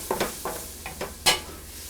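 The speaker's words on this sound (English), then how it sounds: "And then get that all stirred up." A spoon stirs curry powder and turmeric through a pot of mulligatawny soup over medium heat, giving a few quiet, quick scraping strokes with a soft sizzle underneath and one sharper scrape near the end.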